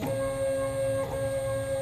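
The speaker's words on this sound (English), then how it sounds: "It now starts to print." A 3D printer runs a print job with a steady mechanical whir and a high, constant motor tone, close and loud, with no voices.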